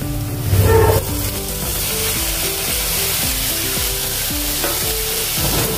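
Tomatoes go into a hot tawa of frying paneer pulao, a loud hiss followed by a steady sizzle and repeated stirring scrapes of the spoon against the pan.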